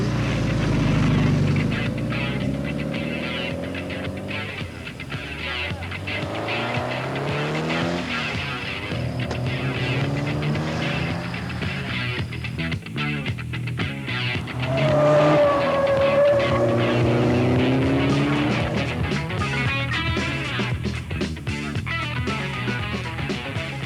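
A small-series sports car laps the Aubusson race circuit, its engine revving up and down through repeated gear changes, with tyres squealing in the corners and the sound swelling as it nears and fading as it pulls away.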